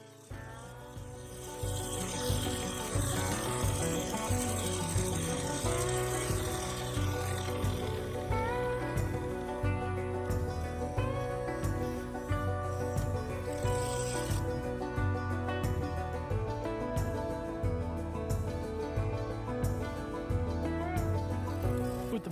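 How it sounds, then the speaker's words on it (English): Bowl gouge cutting spalted beech and epoxy resin on a spinning lathe, a continuous close rasping scrape with rhythmic pulsing from the rotation, loud and unbroken throughout. "I continued removing material with a bowl gouge to fully expose the joint with the resin and the beech"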